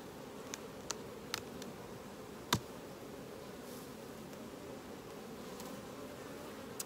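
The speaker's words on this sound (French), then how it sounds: "en ouvrant la ruche, des abeilles qui travaillent sur les 10 cadres" Honeybees work across ten frames of an opened beehive, making a steady, low, dense buzz throughout, with a few faint sharp ticks and knocks from the hive over it.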